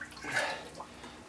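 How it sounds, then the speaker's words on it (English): Water splashing and trickling into a gold pan while working a cartridge of bedrock material, a short soft pour that swells briefly and then settles into a faint wash. "I'm going to put a bit of water in it."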